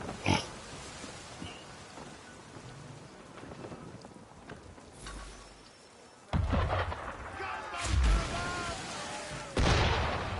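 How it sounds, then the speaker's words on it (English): Cannon fire from a ship in the Assassin's Creed 3 naval game, heard as several loud, sharp booms with deep low rumble spaced a couple of seconds apart over steady wind, waves and creaking, with a brief voice in between. "Why is he shooting at us?"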